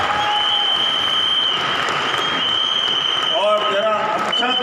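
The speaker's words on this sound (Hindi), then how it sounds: "बस जोरदार तालियां" Loud, sustained applause from a seated audience as a guest is called up on stage at a celebration event, steady clapping filling the whole stretch with a host's voice over it.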